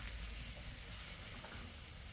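Salisbury steak smash burger patties sizzle loudly on a hot griddle after being smashed, a steady dense frying hiss with no talking.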